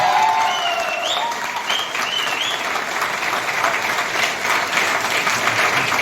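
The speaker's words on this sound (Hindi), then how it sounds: "खड़े होकर दो जबरदस्त ताली सब स्वागत करेंगे" Loud, sustained applause from a large standing crowd welcoming a guest, steady clapping throughout with a few voices and whistles over the top.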